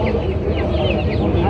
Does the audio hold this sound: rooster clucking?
yes